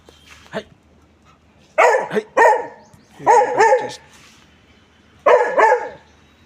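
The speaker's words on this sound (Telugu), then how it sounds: "అది కనుక బౌ అని అరేసి వెళ్ళిపోతుంది" A small dog barks nearby, loud and close, in four separate bursts of short, sharp barks with brief quiet gaps between them.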